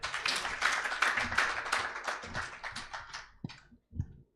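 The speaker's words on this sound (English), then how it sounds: "Let's clap." A conference audience claps for a speaker at a national colloquium on maternal and reproductive health and the law, with dense overlapping applause that thins out into a few scattered final claps.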